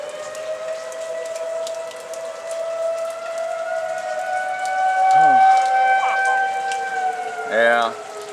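Tornado warning sirens drone with layered, slowly shifting pitches through steady rain on New Year's Eve, loud and sustained, with a couple of short bursts of voice breaking in near the end.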